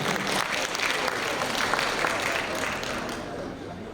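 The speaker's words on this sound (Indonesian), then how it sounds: "Ini sinyal ini, tepuk tangan dulu dong." A seated audience at an Indonesian scholars' assembly in Bali claps in sustained, even applause, loud and full from the start and easing slightly near the end.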